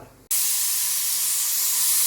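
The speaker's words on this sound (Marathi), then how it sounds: "आता माझी शेवटची शिट्टी एक व्हायची आहे" A pressure cooker cooking rice lets off steam through its whistle: after a brief quiet moment, a loud, steady, close rush of hissing steam suddenly begins and continues unbroken.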